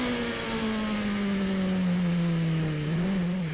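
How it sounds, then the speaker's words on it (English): Onboard sound of a race car at the 4 Hours of Mugello endurance race, a loud close engine howl holding a high pitch then easing down as the car lifts, with no talk over it. "On board view from Kubica"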